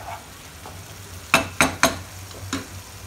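A spoon mixes tamarind paste and jaggery in a cooking pan, giving three quick, close scraping strokes in a row, then a softer fourth, over a low steady hum with no talking.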